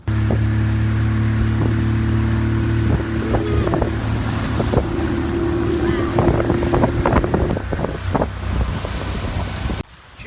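A loud, steady motorboat engine drones with wind buffeting the microphone and water slapping in Greece, cutting off abruptly near the end.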